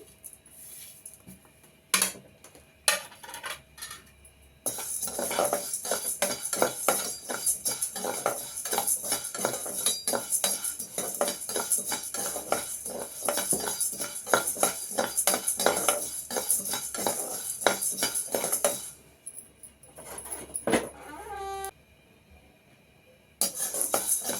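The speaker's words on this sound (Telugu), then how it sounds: "ఇప్పుడు ధనియాలు మిరియాలు రెండు కలిపేస్తున్నానండి" Coriander seeds and black peppercorns stirred together in a pan for a podi spice mix, a steady run of rattling, scraping clinks of spoon against metal, loud and continuous with brief pauses near the start and end.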